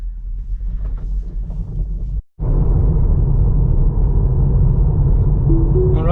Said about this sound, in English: Let me just start driving.